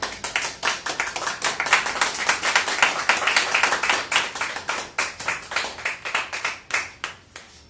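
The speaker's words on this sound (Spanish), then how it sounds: "Dale palmas de alabanza al Señor." A church congregation claps hands in praise during a sermon, a dense, steady run of many overlapping claps that stays loud throughout and thins slightly toward the end, with no voices over it.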